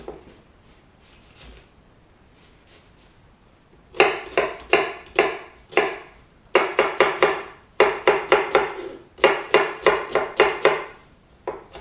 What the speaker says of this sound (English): I'm gonna start off by chopping the onions.